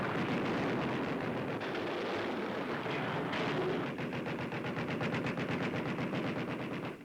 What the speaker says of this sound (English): A Jap plane is met with a hail of anti-aircraft fire.